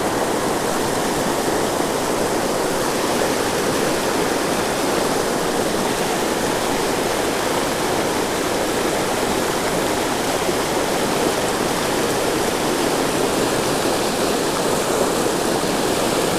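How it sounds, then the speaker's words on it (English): Rushing water from a creek waterfall, a loud, steady broadband roar that fills the clip without letup and carries no voices. "Do not go down that waterfall."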